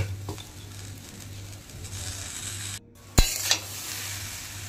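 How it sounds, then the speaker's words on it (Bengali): Food sizzles steadily in a pan while a utensil stirs and scrapes, with a sharp clink of metal partway through. "এইভাবে সব কিছু নাড়াচাড়া করে ভেজে নিতে নিতে"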